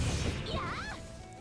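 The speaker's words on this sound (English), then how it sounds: "I just like smashed him against the ground." An enemy slammed into the ground in Shining Resonance Refrain, a heavy crashing impact up front followed by a brief whooshing, warbling magical flourish that fades quickly.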